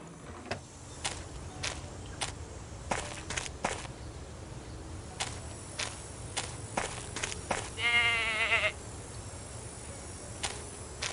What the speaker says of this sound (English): That goat is a menace.